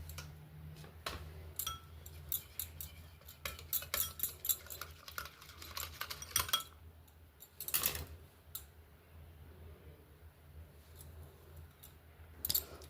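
Soap ingredients with two vitamin E capsules being stirred in a bowl: quiet, uneven clinks and scrapes of a utensil against the container, close and fairly soft, with no talk.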